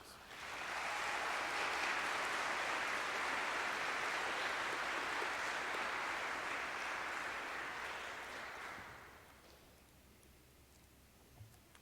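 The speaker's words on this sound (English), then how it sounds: "give them a great big round of applause" A large crowd at a law school graduation claps loudly and steadily for several seconds, a dense wash of applause that gradually fades away into quiet.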